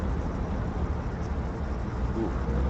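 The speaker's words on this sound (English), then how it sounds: "Engine sounds." A heavy armored vehicle engine in the video game Arma 3 drones in a constant low, rumbling hum with no talk over it.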